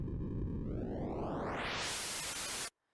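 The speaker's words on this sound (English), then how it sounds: "let's listen as I adjust the color while I have my noise playing" A dense hiss of synthesized noise whose tone sweeps steadily brighter, rising from dull to harsh before cutting off abruptly.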